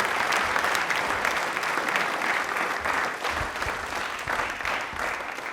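A studio audience at a televised quiz show gives a guest a warm welcome with dense, continuous applause that holds steady and loud throughout, with no talking over it.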